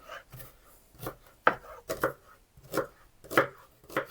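A knife chops through an onion on a board in about eight crisp, fairly regular strokes, close and clear with no talking.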